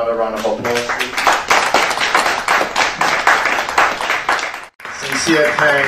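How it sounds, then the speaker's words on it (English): Sustained applause from an audience at a book launch, dense clapping that briefly cuts out near the end before resuming. "Can we give him another round of applause, please?"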